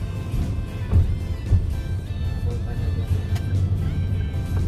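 A car drives along EDSA toward Makati during Typhoon Kristine, its steady engine and road rumble running throughout at moderate level with no clear passes.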